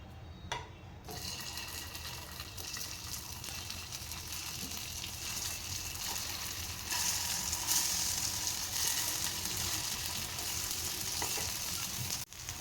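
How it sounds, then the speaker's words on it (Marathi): Sabudana appe balls sizzle and fry in hot oil in an appe pan, a steady close crackling hiss that swells louder partway through as more balls are added, with no talking. "त्यानंतर हे गोळे करून घेतले ते आप्पेपात्रामध्ये एक एक करून टाकून घ्यायचं आहे।"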